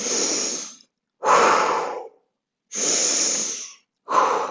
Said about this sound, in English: A couple of big deep breaths.